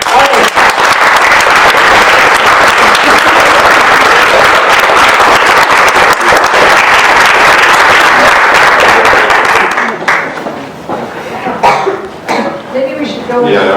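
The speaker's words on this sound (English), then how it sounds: "let me ask you to give a very warm round of applause to the MyView Grand Contest winner, Alvin Tiamzon." Loud, sustained applause from an audience for a grand contest winner at a press conference, a dense wall of clapping that fades out after about ten seconds, followed by scattered coughs and a few quieter sounds.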